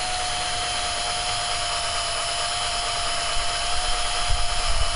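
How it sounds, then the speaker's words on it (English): A power drill runs continuously while drilling out the center of a broken bolt deep in a recessed hole, a steady whining motor hum with grinding that grows rougher and louder toward the end, no talking. "I'm gonna go ahead and drill out the center"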